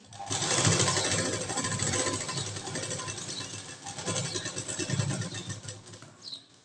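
A sewing machine runs a continuous, close, busy whir while stitching the front of a katori blouse along its seam margin, with slight surges in pace and no talking.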